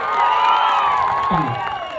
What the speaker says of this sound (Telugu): ఒక్కసారి చప్పట్లు వినాలంట మన మగాళ్ళందరూ తరపు నుంచి. చప్పట్లు కొట్టండి.